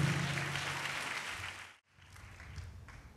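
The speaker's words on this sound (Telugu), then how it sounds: "చప్పట్లు కొట్టి దేవుడు మహింపరుద్దాం గట్టిగా" A church congregation claps hands loudly together in a dense, steady burst of applause that dips briefly to near silence and then picks up again.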